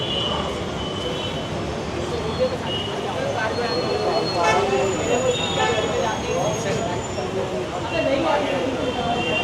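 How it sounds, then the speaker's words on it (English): Dense street traffic in Mumbai, India, a steady loud roar of engines with car horns honking intermittently in the mix, and voices talking over it. "Now that's the honking."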